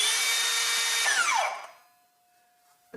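A Metabo power tool runs loudly and steadily with its silent mode switched off, then spins down with a falling whine into near quiet, leaving a faint lingering tone.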